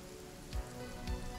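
Rain in the survival video game Sons of the Forest, a steady, soft hiss of falling drops with two muffled low thumps, no speech.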